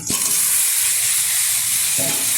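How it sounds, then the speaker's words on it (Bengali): Fried chicken pieces dropped into a hot pan of sizzling garlic paste for a Bengali-style chicken curry, giving a loud, steady frying hiss throughout with a brief clatter at the start and another near the end. "এখন দিয়ে দেবো ভেজে রাখা চিকেন"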